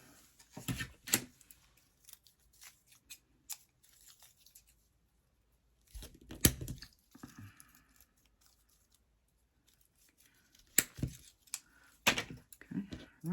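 Scissors snip out small paper flowers in a few quiet bursts of crisp cutting sounds, with long near-silent gaps between them.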